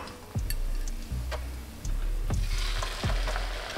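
Onions frying in a pan for a fried curry mushroom and potato dish, a steady sizzle with occasional stirring knocks and clicks from the utensil, close and fairly loud, with no talking.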